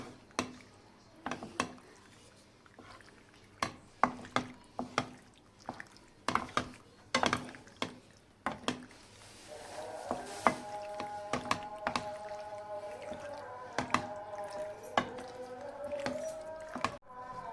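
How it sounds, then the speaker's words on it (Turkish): Penne pasta stirred together with sauce: repeated wet clicks and spoon knocks against a pot in an uneven rhythm, close and fairly quiet, with a faint whine of background tones in the later part. "Hemen şöyle makarnalarımı güzelce sosla karıştırıyorum."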